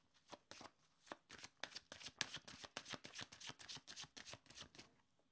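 Tarot cards being shuffled by hand, a quick run of crisp riffling flutters in steady bursts, close and quiet, with no voices.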